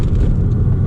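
Porsche 987.1 Boxster S driving out of Burford, heard from inside as a steady low engine and road rumble with no talk over it.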